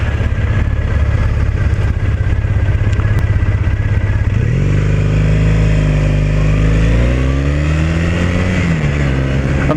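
Triumph Bonneville motorcycle engine on a test ride, a loud, steady low throb that plods along evenly, then rises and falls smoothly in pitch as the bike pulls away and changes speed.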